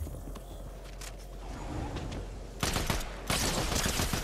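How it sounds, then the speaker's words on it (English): Enemy gunfire in a Fortnite match: a low background of shots that breaks into two loud, dense bursts of rapid firing near the end. "That's them shooting at me."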